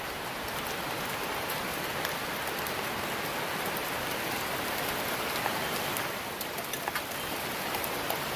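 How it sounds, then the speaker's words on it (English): Heavy rain pours down outdoors in Washington at an outdoor dig site, a dense, steady hiss of drops striking the ground with gusty wind and occasional sharper patters, no voices. "You can see there the wind is kicking up, the rain is coming down"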